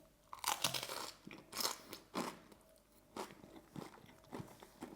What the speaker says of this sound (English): just so you may hear the crunch